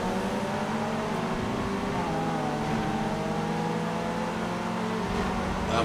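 Several racing car engines, including a Mazda Miata, whine and rev together in a street race in Need for Speed Underground 2, a steady loud roar with rising and falling pitch throughout.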